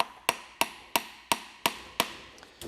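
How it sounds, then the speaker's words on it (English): Seven sharp, evenly spaced hammer strikes driving a pin down into a foam cannon head for car detailing, close and crisp with a steady rhythm and no talk. "I'm gonna use a hammer to hammer that piece down"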